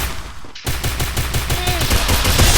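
Rapid, loud automatic gunfire from a gun in a shooter video game starts after a brief pause, fast regular shots continuing densely to the end.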